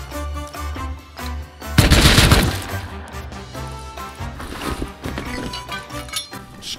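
Gunfire in the video game Rust, rapid automatic bursts cracking over game music, with a loud, sharp volley near the start followed by quieter scattered shots.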